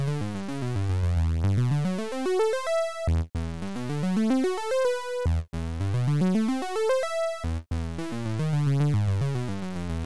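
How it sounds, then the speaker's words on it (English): Serum software synthesizer playing arpeggios with a sine wave and light oscillator sync, giving bright, buzzy tones that sweep up and down in repeating rising runs, loud and alone, with brief gaps between phrases. "So a sine wave with a little bit of sync."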